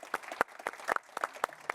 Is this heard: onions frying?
no